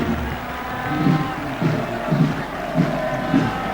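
A football stadium crowd in Paysandu, a compact 22,000-capacity ground, keeps up a steady roar with rhythmic bursts of chanting that swell every half second or so.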